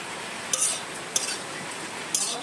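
Vegetables and spices, including turmeric, being stirred in a pan on a home stove, giving three short, sharp utensil scrapes against the pan spaced about half a second apart over a faint steady background hiss.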